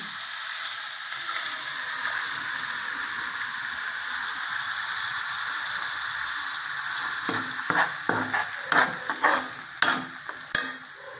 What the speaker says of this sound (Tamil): இப்போ நல்லா வதக்கிடலாங்க